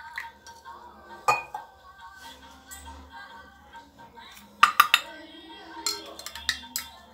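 A spoon stirring dry ginger powder and turmeric into lukewarm milk in a glass or cup, heard as scattered metallic clinks and taps, clustering in quick bursts in the second half, over quiet background.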